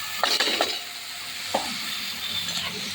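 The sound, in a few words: chopped potatoes sizzling and stirred in spicy masala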